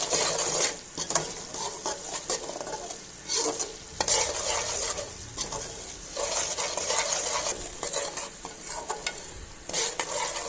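Semolina (suji) roasting in a pan for halwa, stirred continuously with a spoon: dense, dry scraping and rustling strokes repeating close by over a light sizzle.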